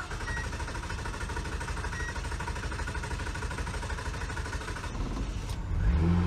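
A Nissan Altima SE-R engine, unrun for years and just fitted with a new fuel pump, runs at a steady, busy mid-pitched idle close by, then revs and shifts toward the end.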